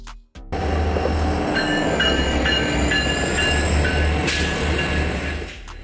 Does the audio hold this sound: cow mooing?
no